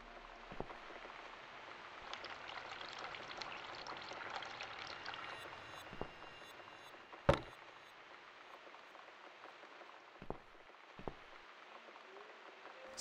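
Cold tap water runs steadily into a bowl in the horror adventure game The Cat Lady, a soft, faint splashing stream broken by a few brief clicks and taps.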